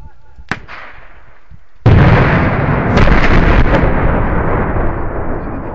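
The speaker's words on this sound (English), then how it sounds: "that was an 18 kilo bucket of ammo that made that bang in one hole" Detonation of an 18 kg bucket of explosives packed in one hole at an explosives demonstration: a sharp pop, then a sudden huge boom that rolls into a long, loud roaring rumble lasting several seconds.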